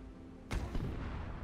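A video game grenade launcher with boosted projectile velocity firing once, a sharp, punchy thump followed by a short rumbling decay over low background noise.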